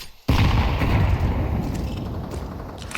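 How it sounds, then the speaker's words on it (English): A grenade goes off in a tactical shooter match on the Inferno map: a sudden loud blast after a brief quiet moment, then a long rumbling decay with scattered distant gunfire. "Grenade out."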